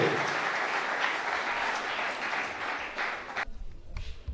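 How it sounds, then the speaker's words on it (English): Full applause from a council meeting audience as a strategic plan is handed to the council chair, a dense, steady wash of many hands that cuts off abruptly near the end, leaving a few scattered claps. "Another hand clap, please."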